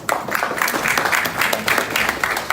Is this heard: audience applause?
yes